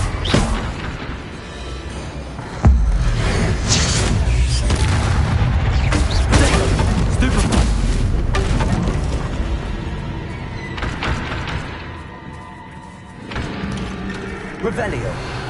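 Confringo fire spells blasting in Hogwarts Legacy, a series of loud booming explosions with crackling debris over about fifteen seconds, the heaviest hit arriving early and others following at irregular intervals under continuous game noise.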